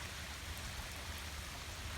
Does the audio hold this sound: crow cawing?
no